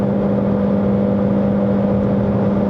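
A Chery Tiggo Cross 1.5 HEV hybrid car cruises at top speed, heard from inside as a steady loud whir of engine, tyre and road noise with a continuous drone.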